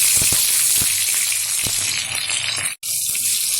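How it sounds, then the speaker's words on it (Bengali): Chopped capsicum hisses and sizzles in a hot pan for a vegetarian paneer dish, a loud, steady close-up frying hiss broken by light scraping knocks as it is stirred, with a brief drop to near silence. "একটু নেড়ে চেড়ে নিচ্ছি। দিয়ে দেবো কিছুটা পরিমাণে ক্যাপসিকাম, মানে অর্ধেক ক্যাপসিকাম।"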